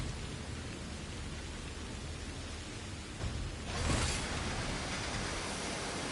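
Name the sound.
rain in video game Synduality Echoes of Ada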